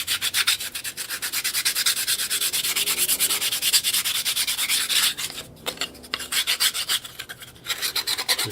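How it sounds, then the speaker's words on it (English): Timber edges being deburred in construction work, a continuous close rough rubbing and rasping with rapid repeated strokes, briefly pausing twice near the end. "Just deburr the edges."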